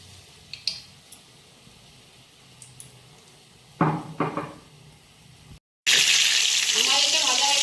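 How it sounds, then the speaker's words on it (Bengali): Paneer pieces are lowered into hot oil in a kadai, and a loud, steady sizzle bursts in after a brief silence, following some quieter clinks and handling noises. "আমি এবার কড়াইতে তেল ঢেলে নেব। কড়াই গরম করে নিয়েছি।"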